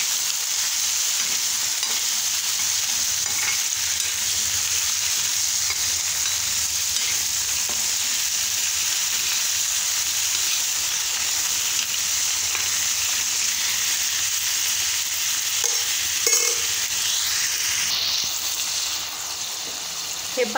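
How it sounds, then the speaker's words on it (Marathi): Cucumbers roasting uncovered in an open pan with salt, giving a steady close sizzle with occasional stirring scrapes throughout. "झाकण न ठेवता मस्तपैकी असं आपल्याला भाजून घ्यायच्या आहेत ह्या ककड्या।"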